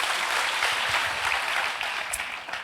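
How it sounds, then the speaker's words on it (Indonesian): A church congregation at a Sunday service claps together, a dense wash of applause that carries steadily and then tapers slightly toward the end. "Kasih tepuk tangan kepada Tuhan."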